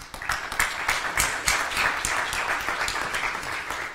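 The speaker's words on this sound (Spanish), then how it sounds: "La recibimos con fuerte aplauso." An audience at an official welcome event applauds a government minister with a smaller crowd's clapping, individual claps standing out as distinct, uneven beats at close range, with no speech over them.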